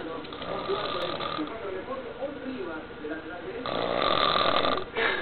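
A man asleep snores in slow, rough breaths, fairly close and moderately quiet, with the last snore louder and longer.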